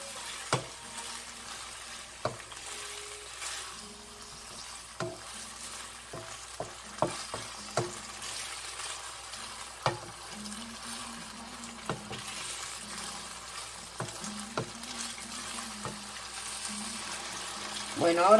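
Garlic sauce with herbs and pepper cooking in a pan, a soft steady sizzle with occasional stirring clicks and scrapes, close and fairly quiet.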